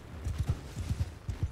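Galloping horses in the Mount and Blade Bannerlord game give a quick run of thudding hoofbeats in uneven clusters, close and steady, with no voices over them.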